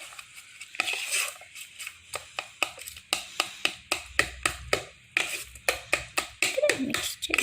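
A whisk or spoon beats pancake batter in a bowl, making a quick run of sharp clacks and taps against the sides, steady and close, broken by short pauses.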